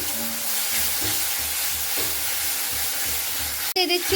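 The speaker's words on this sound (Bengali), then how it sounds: "আর এখানে আমি মশলাটা খুব ভালো করে এখানে কষিয়ে নিচ্ছি।" Onions and spice paste for a rohu fish curry fry in a pan with a dense, continuous sizzle and soft stirring scrapes, cut by a sudden clattering knock near the end.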